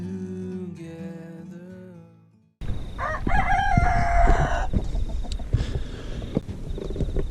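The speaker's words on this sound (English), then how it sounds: "Chickens can be good, or chickens can be bad." A rooster crows loudly nearby amid chicken clucking and farmyard fowl sounds, preceded by a stretch of music.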